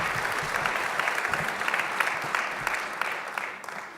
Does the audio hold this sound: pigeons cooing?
no